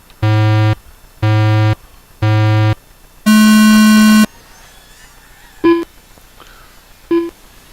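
Start beeps for race pilots at the Jim Gibney Memorial Race: three evenly spaced short tones, then one long higher-pitched tone, followed later by two brief, quieter beeps over faint background noise.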